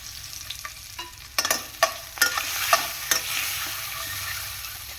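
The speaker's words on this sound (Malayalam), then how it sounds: "ഈ മാരിനേറ്റ് ചെയ്ത് വെച്ചിരിക്കുന്ന ഈ മുട്ട നമുക്കൊന്ന് ഫ്രൈ ചെയ്തെടുക്കാം." Marinated eggs frying in coconut oil in a pan for a Kerala-style egg curry, a soft steady sizzle under a burst of sharp stirring scrapes and clicks in the middle, close by and without speech.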